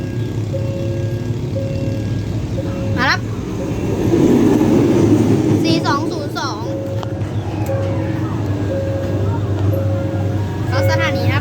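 An empty diesel rescue train rolls through a Thai station with its engine rumbling low and steady, rising as it draws closer. Someone narrates over the sound throughout, and high chirps and shouts come in bursts.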